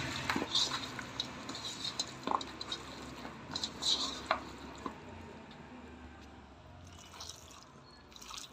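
Mutton with a little oil is stirred and mixed in a pot: soft wet squishes and irregular clinks of a utensil against metal, near and fairly quiet, fading toward the end.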